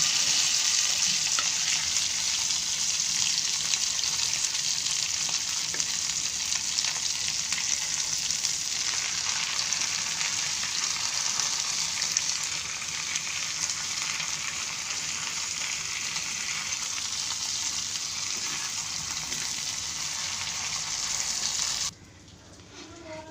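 Eggplant slices fry in hot oil with a steady, loud sizzle as they are flipped, and the sizzle drops off sharply near the end.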